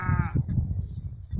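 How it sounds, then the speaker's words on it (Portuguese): Sheep bleat in a grandmother's backyard, one clear wavering bleat at the start followed by softer livestock sounds and a low breeze rumble close by. "Olha as ovelhas aí. Estão comendo."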